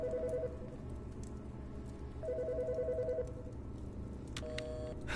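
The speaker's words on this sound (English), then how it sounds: "Phone." A telephone rings inside the horror game Autopsy Simulator, in the medical examiner's office. Two bursts of electronic ringing sit over a steady low background hum, with a short tonal blip near the end.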